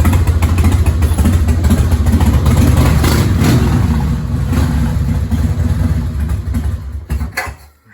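A Soviet Red Army sidecar motorcycle registered in the USSR runs close and loud with a steady, rough low engine drone that tapers off and fades near the end.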